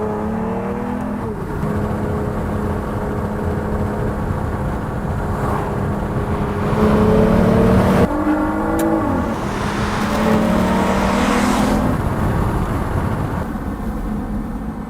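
A British car's engine pulls hard on the road, revs rising loudly and steadily, dipping at a gear change, then building again with a strong, continuous drone close by.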